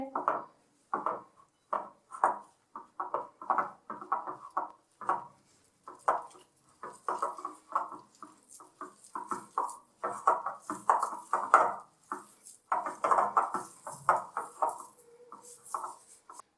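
Spoon clinking and scraping in a bowl while lemon juice, vinegar and garlic paste are stirred into a Lahori fish fry marinade, quick irregular taps and scrapes close up, alone without talk.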